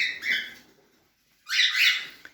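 Two bursts of shrill, raspy cockatiel calls close by, separated by a short pause, with no talking.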